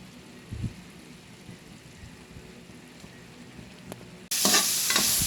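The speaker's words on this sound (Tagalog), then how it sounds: "Pagbabrownin ko lang itong karne, pagkatapos igigisa ko na yan." Meat browns in a hot pan before vegetables go in, a low faint sizzle with occasional stirring knocks that suddenly jumps to a loud, bright, crackling fry near the end.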